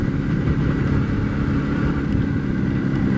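An Izh Jupiter motorcycle engine runs steadily and loudly at fairly high revs, a continuous close-up drone with no pauses or voices.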